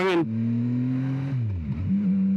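Motorcycle engine revving under the throttle of a beginner rider, a steady drone that climbs, dips briefly and rises again, close and loud against wind noise.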